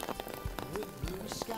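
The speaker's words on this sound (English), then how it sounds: "It's raining." Rain falling on a hike along the Pacific Crest Trail: a dense patter of drops tapping nearby surfaces, loud and close, with a few heavier thumps mixed in and no speech.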